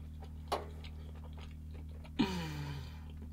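Someone eating chocolate chip banana pancakes inside a vintage truck camper parked overnight at a ski resort lot: two soft, close bites and quiet chewing over a low, steady hum.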